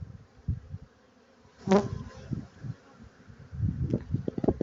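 Honey bees buzzing at close range in short, irregular bursts while being removed from a hive, with a brief sharper scrape in the middle and soft handling noises.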